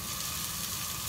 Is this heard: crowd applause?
no